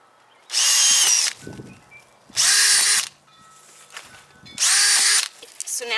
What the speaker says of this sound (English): it doesn't matter particularly where these are drilled, because it's just to allow water to flow out